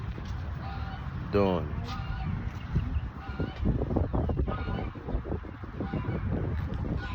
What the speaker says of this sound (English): We got the ducks.